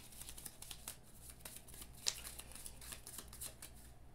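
Marvel Legendary card game deck being shuffled by hand, a faint, steady papery riffle of cards close by with small crisp snaps, with no talking over it.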